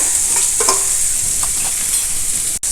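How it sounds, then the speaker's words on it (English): Onion, green chilli, capsicum and carrot stir-fried with ginger and curry leaves for a barnyard millet upma: a loud, steady sizzle with a few scraping stirs, no talking. "Stir fry all these together."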